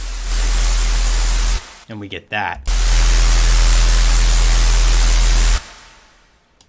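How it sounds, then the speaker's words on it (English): Distorted white noise in music production, a loud flat hiss that cuts out briefly while a voice speaks, then returns steady and full before stopping abruptly into quieter background. "Sine waves and white noise. So now I can add distortion,"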